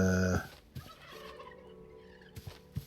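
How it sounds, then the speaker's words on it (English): A turkey in the TerraFirmaCraft video game lets out a loud, rattling gobble at the very start, followed by quieter footsteps and faint ambient game noise, with no talking. "turkeys are handy as well"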